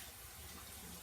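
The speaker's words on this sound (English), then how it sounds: "going to drain these 2 cans off" Two cans of beans poured into a colander in a kitchen sink, a steady, soft rush of draining liquid that runs throughout, quiet and without voices.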